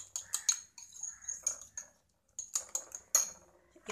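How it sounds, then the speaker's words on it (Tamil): A knife finely chops vegetables on a board, with quick, irregular clusters of crisp, close taps and a short pause midway. "நல்ல பொடியாக கட் பண்ணி"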